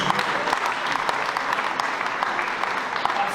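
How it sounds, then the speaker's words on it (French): Steady audience applause at a prize-giving ceremony, a continuous, fairly loud wash of many people clapping that fills the whole stretch without talk. "applaudissements pour celle-ci"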